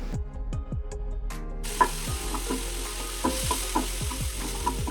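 Beetroot with green chilli, turmeric and salt sizzles in a frying pan as it is stirred, with repeated close scraping strokes over a steady hiss that grows louder partway through.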